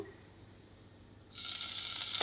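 Half a spoon of ginger paste drops into hot oil over a low gas flame for dhaba-style paneer tikka masala. A quiet start gives way to a sudden, loud, steady sizzle that continues to the end, with no voices.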